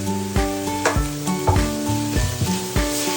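Garlic ginger paste sizzles in a hot pan for chicken curry, with a steady frying hiss broken by several louder stirring scrapes, close up, over background music and no talking.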